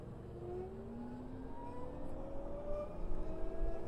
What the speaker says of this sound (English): It really does sound like the sci-fi movies when an electric engine moves forward.